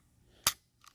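The trigger of a Sig Sauer P320 RX Compact pistol resets with one sharp, close click, followed by a fainter second click a moment later, with no talking.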